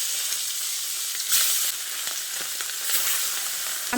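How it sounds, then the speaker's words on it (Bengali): Pieces of katla fish fry in hot oil in a pan for a Bengali katla kalia, a steady close hiss that swells briefly at moments, with no talk. "এবার আমি মাছের পিসগুলো দিয়ে দিচ্ছি।"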